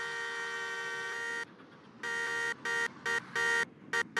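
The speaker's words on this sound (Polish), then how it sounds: "Tutaj nie wiem czemu on trąbi" A car horn in a Roblox driving game blares in a long steady blast, then sounds again in several short, uneven honks with brief gaps between them.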